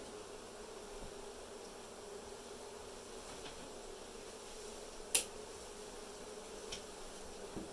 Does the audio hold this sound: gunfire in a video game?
no